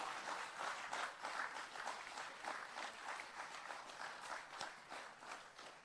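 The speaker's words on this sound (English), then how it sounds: "please join us in giving a rousing round of applause to our landowners" Crowd at an outdoor land titling ceremony clapping for landowners, a dense, steady patter of many hands that swells and eases slightly, heard from a little distance and fairly faint, with no clear voices.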